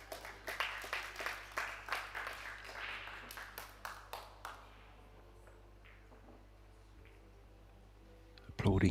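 Audience applause at the European Pool Championships youth event: a run of sharp, irregular claps for roughly the first half, fading into a quiet room, with a brief louder burst at the very end.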